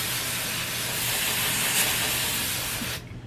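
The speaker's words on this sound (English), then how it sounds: "I'll spray near the root and then I'll brush it through my hair." A loud, close, continuous hiss of hair spray from an aerosol can being sprayed near the hair roots, lasting about three seconds before cutting off sharply.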